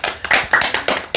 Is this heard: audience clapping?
yes